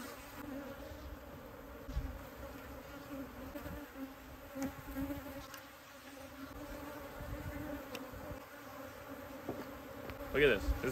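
Swarm of wild Texas bees buzzing steadily around an open hive while honey frames are pulled for extraction, a dense continuous drone with occasional louder passes close by.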